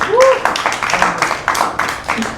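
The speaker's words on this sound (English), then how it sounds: "a big round of applause for everybody for participating" A crowd applauds participants at a Las Vegas tech demo night, a fairly loud dense patter of many hands clapping across the whole stretch, mixed with voices and a brief cheer near the start.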